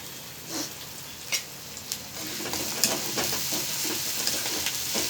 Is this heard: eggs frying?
yes